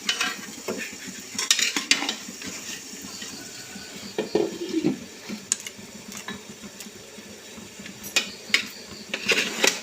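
Steamed marvai pundi rice dumplings are stirred into masala in a pan, giving intermittent scraping, clinking utensil strokes and soft wet sizzling.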